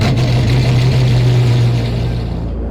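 An Agera RS engine on a cold startup, a loud, steady low rumble with a droning tone held for a couple of seconds before tapering off at the end.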